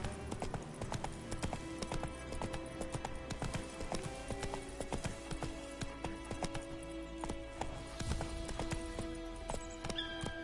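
Roach, the horse in The Witcher 3, gallops in a steady, fast clip-clop of hooves that runs unbroken and fairly loud throughout, with no talking.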